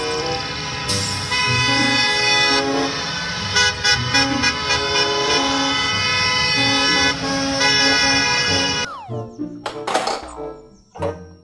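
Toy school bus horn tooting in a loud, sustained melodic run for most of the stretch, then breaking into a few short, choppy honks and clunks near the end.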